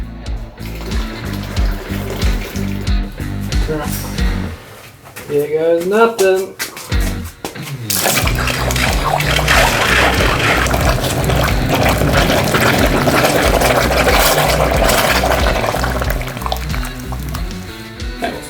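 Water pours loudly and steadily into a bucket from a jug after a short stretch of clattering and a brief spoken remark. The rushing fill sound holds constant to the end.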